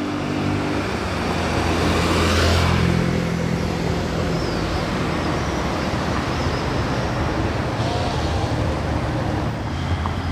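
A full-black Bugatti Chiron in Monaco gives a loud, sustained, deep engine roar that holds steady and close throughout, with no talk.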